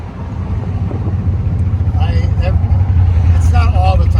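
Idling V8 engine of a 1971 Corvette Stingray convertible, overhauled, rumbling steadily and loud up close with a deep low throb, while people talk over it.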